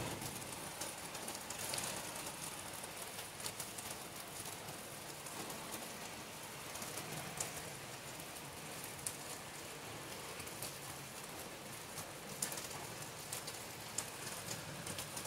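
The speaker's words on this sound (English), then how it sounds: "rain is continuous after from afternoon it's raining continuously" Steady rain patters on surfaces, an even, continuous hiss with occasional louder drips, heard without any voices.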